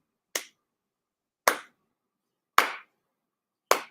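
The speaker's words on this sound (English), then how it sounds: "With every clap, a second of rainforest is gone" Four sharp, isolated hand claps ring out about a second apart, each a crisp close snap with a quick decay into complete silence between them.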